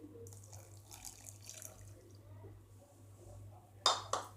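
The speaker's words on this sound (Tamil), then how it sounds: "ஸோ முதல்ல பால் சேர்த்துட்றேன்" Milk pouring into a pot for semiya payasam trickles softly over a low hum, followed by two sharp clinks near the end.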